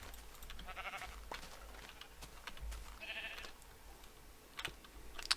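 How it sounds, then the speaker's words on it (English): Minecraft sheep bleat twice in a short, clear cry, against a quiet background of computer keyboard typing and clicks. "There are a lot of sheep here"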